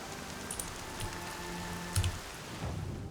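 Steady rain falls in the Horizon Zero Dawn game world, a continuous soft hiss with scattered droplet taps and a low thump or two, heard alone without voices.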